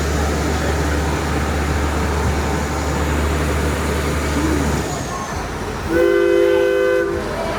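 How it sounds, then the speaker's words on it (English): An amusement park train at Six Flags Over Georgia rumbles along with a steady low rolling noise, then a loud, sustained whistle blast sounds near the end. "There's our whistle."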